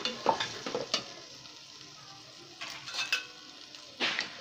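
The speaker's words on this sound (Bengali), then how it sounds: "সিদ্ধ করা গোশটা আমরা এখন এটাকে সুন্দর করে মিক্সচার করে নিচ্ছি।" Boiled meat and spices being stirred in a pot for Bangladeshi haleem: soft scraping and light sizzling in a few short bursts, close and quiet.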